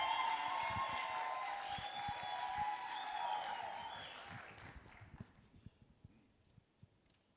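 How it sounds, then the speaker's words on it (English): Audience applause inside the Kenya National Theatre at a festival launch, a broad wash of clapping that gradually thins and fades out over several seconds, leaving a few scattered claps at the end. "A round of applause, please."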